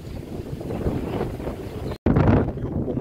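Strong wind roars across the microphone in an orchard, a loud continuous rushing buffet broken by one brief dropout near the middle before gusting on just as hard.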